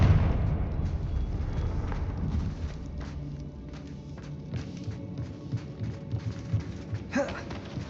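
A Confringo blasting spell explodes in Hogwarts Legacy, a loud rumbling burst at the start that fades into a low, lingering boom, followed by scattered smaller crackles and thuds with a brief sharp flare near the end.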